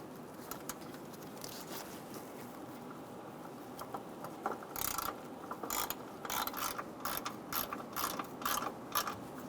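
A ratchet snugs down the bolt of a front airbag impact sensor on a 2014–2018 Chevrolet Silverado 1500, with short bursts of ratcheting clicks over a steady background hum, growing more frequent toward the end.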